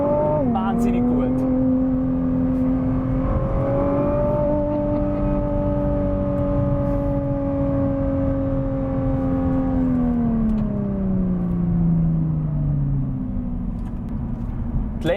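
A Nissan GT-R sports car drives along with a steady loud engine drone and hum that slowly rises and falls in pitch, heard from inside, with someone talking over it.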